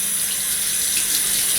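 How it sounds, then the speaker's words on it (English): A bathroom sink faucet runs in a steady, full gush of water splashing into the basin, loud and constant with no talking. "Turn the water on."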